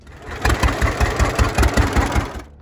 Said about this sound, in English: Famous for its two-cylinder Johnny Popper engine